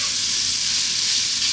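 Cooked spaghetti sizzles in garlic oil over low heat, a dense, even hiss of frying that stays loud and steady throughout, close up with no speech.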